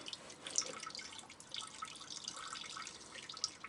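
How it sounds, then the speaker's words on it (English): Fuel drips and trickles steadily from a car's fuel basket, a faint close-up liquid patter with occasional brighter drops and no voices. "I think let it drain first, and then take the fuel basket and put it into a bucket."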